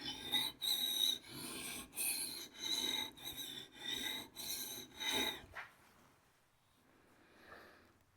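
A drawknife edge stroked against an abrasive sharpening grit, about eight close, rhythmic rasping strokes, each a second or less, followed by quiet.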